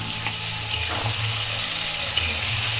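Tomatoes sizzle and fry with salt in a pan, a steady bright hiss close up with a few soft stirring scrapes and no talking.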